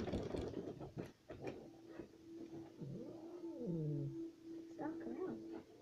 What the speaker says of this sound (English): Stop growling.